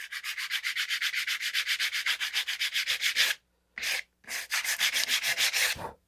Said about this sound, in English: And I'm going to start sanding.